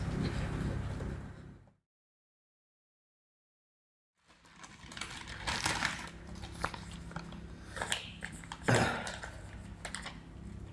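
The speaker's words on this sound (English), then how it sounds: "You need to give it a really good mix." Banana cake batter is stirred briskly in a bowl, with scraping and clicking strokes up close. A short silent gap breaks it up, then a long, busy stretch of mixing follows.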